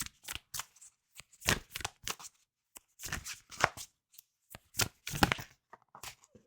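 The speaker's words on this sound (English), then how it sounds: "I'm going to keep shuffling." Tarot cards being shuffled by hand in repeated short riffling bursts separated by brief pauses, close and fairly quiet, with no talking.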